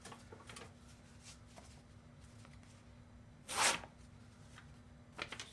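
A freshly sharpened Bowie knife slicing thick cardstock, a single quick rasping tear near the middle, close and fairly loud over a quiet room, followed by a fainter short rustle.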